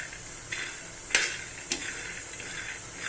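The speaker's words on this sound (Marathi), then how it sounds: "असे चांगले शेंगदाणे भाजून घ्यायचे" Peanuts roasting in a pan as they are stirred, with soft scraping strokes, a faint sizzle and two sharp clicks from the utensil against the pan, all fairly quiet with no voices.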